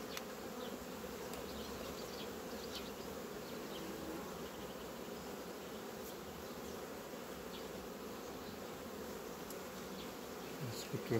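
Honeybees hum in a dense, continuous drone around an open hive during a swarming-season inspection, steady and close with no voices.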